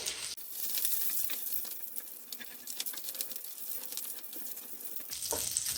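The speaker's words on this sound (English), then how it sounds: "Use a spatula to turn around and scrape off all the brown bits." Chicken sizzles in a hot pan as a spatula scrapes up the browned bits, a steady close frying hiss broken by scratchy scraping and patter, with no talking.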